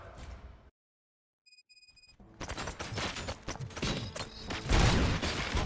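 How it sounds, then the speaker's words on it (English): Gunfire bursts in the RoboCop: Rogue City video game, a dense, loud clatter of rapid shots filling the second half after a brief silence and a few electronic tones. "Gunshots? What's going on?"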